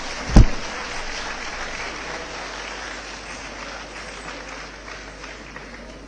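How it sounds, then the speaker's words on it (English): Audience at an annual event in a convention hall breaks into applause after a sharp initial clap, a dense steady wash of clapping that continues evenly and slightly fades over several seconds. "please welcome Varshini with a big round of applause"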